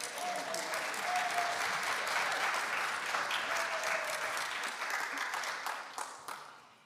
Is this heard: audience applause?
yes